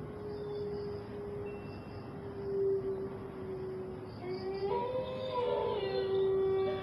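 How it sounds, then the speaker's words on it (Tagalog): Several dogs howl at night in a rural province near a forest, their long, wavering tones rising and overlapping, growing into a fuller chorus toward the end over a steady hiss of background noise. "Narinig nyo yun guys, hindi pa tayo nakapasok pero yung mga aso"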